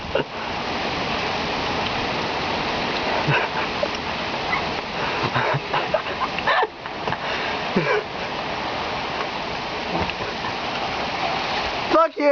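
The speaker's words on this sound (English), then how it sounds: "It's starting to rain harder now." Heavy rainstorm pouring down while running outdoors, a dense continuous hiss of rain close by, with brief rustles and a short burst of noise near the end.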